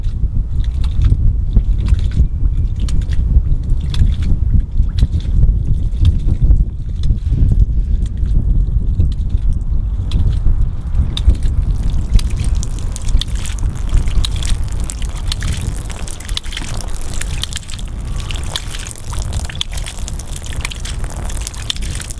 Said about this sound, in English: Now you'll notice the pump is operating and we're pushing water out at the top.